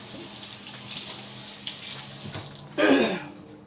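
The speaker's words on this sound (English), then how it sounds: "I rinse my hands" Hands rinsed under a running kitchen tap during pecan pie baking, with a short, loud gush of water near the end after a quieter background stretch.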